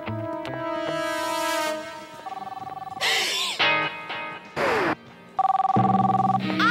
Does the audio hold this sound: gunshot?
no